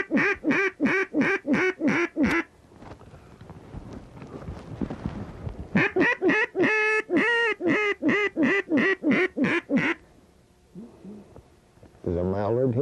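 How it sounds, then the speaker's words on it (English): A mallard hen quacks loudly and close in rapid repeated bursts of calls, with quieter wind-blown gaps between the runs and people talking near the end. "It was a mallard hen"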